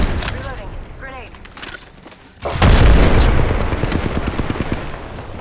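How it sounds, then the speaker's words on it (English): A grenade explosion in Apex Legends, a sudden loud boom partway through followed by a rumbling tail and scattered gunfire, after quieter game noise. "Grenade."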